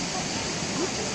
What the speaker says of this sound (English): one of the places not to be missed are the waterfalls of Agia Kori